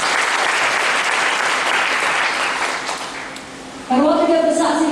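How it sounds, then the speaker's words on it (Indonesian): A church congregation applauds steadily during a Sunday worship service, a dense, even wash of many hands clapping; near the end the clapping thins and a voice begins speaking over it. "Kita tepuk tangan Tuhan"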